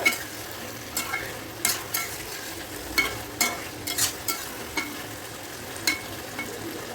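Chicken being stir-fried in a pan for a chicken curry, with a steady sizzle broken by repeated sharp spatula scrapes and knocks against the pan at an uneven rhythm, close and clear.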